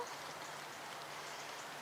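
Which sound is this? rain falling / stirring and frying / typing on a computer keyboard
rain falling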